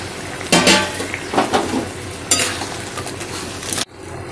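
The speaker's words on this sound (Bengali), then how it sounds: "এবার আমি এই ফুটন্ত ঝোলের মধ্যে সেটা মিশিয়ে দিলাম" Metal utensils clatter and scrape against a pot as fried crab is stirred into boiling curry broth, with several sharp clanks and bursts of bubbling before a sudden stop.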